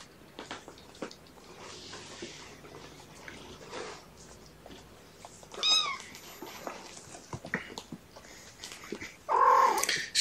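A kitten squeals and grunts faintly while using the bathroom, mostly quiet, with a few sharper high-pitched bursts and a louder squeal near the end.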